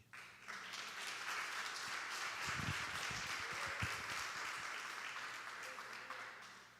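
A church congregation breaks into sustained applause that swells and then tapers off, with voices mixed in and faint thuds underneath.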